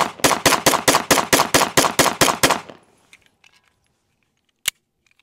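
Rapid string of about eleven sharp handgun shots at a shooting range, evenly spaced and loud, fired alone in quick succession, then quiet with a few faint clicks and one more sharp crack.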